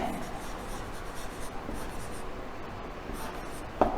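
Writing on a board during a class: a steady, continuous scratching and rubbing stroke that runs almost without pause, ending in a brief sharper tap, with no voices.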